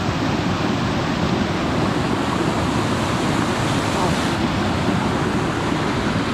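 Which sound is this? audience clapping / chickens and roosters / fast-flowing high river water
fast-flowing high river water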